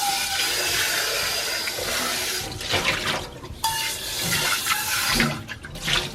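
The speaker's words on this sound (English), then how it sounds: "and then you guys can just rinse it off." Tap water runs and splashes over an 18cm stainless steel waterless cooking pot as it is rinsed in a sink, a steady broadband rush that shifts and breaks off briefly before resuming.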